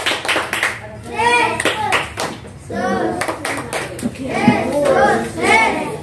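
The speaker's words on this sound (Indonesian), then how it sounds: "Tepuk tangan." Children at a Christmas celebration clap their hands in quick rhythmic bursts, close and lively, between stretches of chanting and children's voices.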